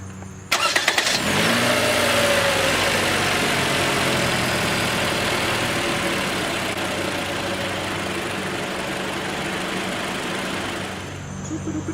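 A 2016 Toyota RAV4 SE all-wheel-drive SUV cranks to life, catches with a brief rev, then settles into a steady, loud, close-up idle that holds evenly to the end with no talking.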